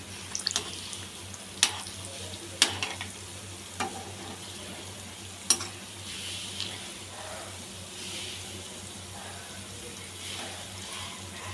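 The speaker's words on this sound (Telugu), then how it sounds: "బోండాలు రెండు వైపులా బాగా ఎర్రగా కాల్చుకుందాం" Sweet bondas fry in hot oil with a steady close sizzling bubble, punctuated by occasional sharp clicks and clinks of a utensil, without any voices.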